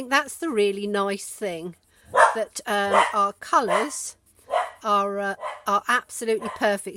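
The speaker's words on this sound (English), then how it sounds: "Excuse my dog, it's the weekend, so people are about everywhere, and she has to have a little bark" A small female dog barks in short, yappy bursts mixed in with someone talking close by indoors, the barks partly buried under her voice.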